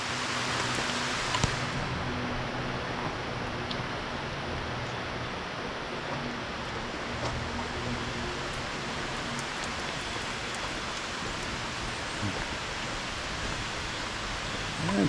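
Heavy rain pours steadily through woodland along Walnut Creek in Asbury Woods, Erie, Pennsylvania, a dense, unbroken hiss of drops on leaves and ground that stays loud and even throughout, with no voices.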